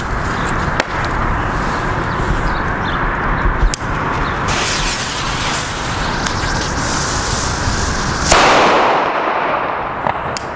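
Red Fire Event Corsair firecrackers from a pack of twenty go off outdoors: a few sharp, loud bangs spaced seconds apart over steady wind-like background noise, with a louder burst near the end.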